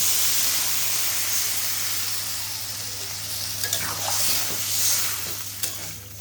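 Plantain frying in a pan as water is added, giving a loud steady sizzle and hiss with steam, with a low hum underneath and a few small clinks of stirring.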